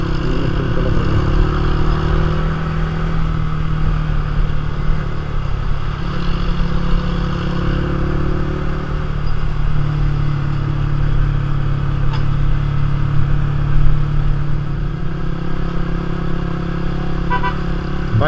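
Motorcycle engine droning steadily on a rough off-road hill track to Sajek, loud and close throughout with faint clatter from the bumpy ride and no talking.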